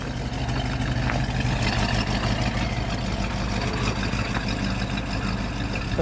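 A 1959 Plymouth Sport Fury 318 V8 idling, a steady, even low engine rumble that carries on unbroken close by, with no voices over it.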